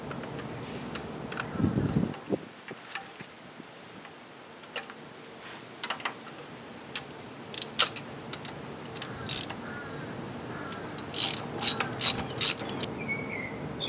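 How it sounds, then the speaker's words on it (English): A ratchet with a 5/8 socket tightens a spark plug in scattered, sharp little clicks and short runs of ticking over a quiet background. "Once we have it started, I'll switch to the normal 5/8 socket."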